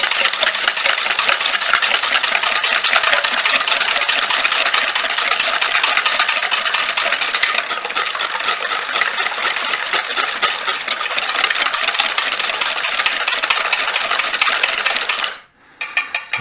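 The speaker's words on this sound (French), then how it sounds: "Il faut fouetter les œufs et le sucre pour arriver à faire blanchir un petit peu les deux ensemble." An electric mixer whisking eggs and sugar for a strawberry tart, a loud continuous high-pitched whirring with fine rattling texture running steadily before abruptly cutting off near the end, no talking.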